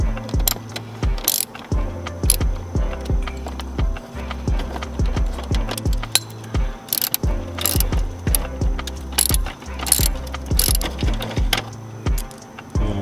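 A hand ratchet removes the reflector bolts on a BMW F30 with rapid, close pawl clicking in repeated bursts, broken by short pauses and a few metallic knocks.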